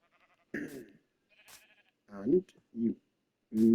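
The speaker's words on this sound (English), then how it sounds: "There you spot thou sheep, the ones that you wish to share." Minecraft sheep bleat several times in quick succession, close and fairly loud, with short gaps of quiet between the calls.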